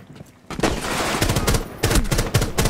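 Rapid bursts of automatic gunfire in the tactical shooter Rainbow Six Siege, loud and close, with a lull, then repeated sharp volleys over game ambience.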